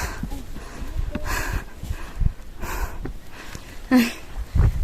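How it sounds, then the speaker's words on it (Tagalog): Heavy, ragged breathing and panting from someone hiking uphill, with snort-like gasps and sniffs coming in uneven bursts close to the mic, plus a few louder huffs near the end. "Rinig yung hingal ko?"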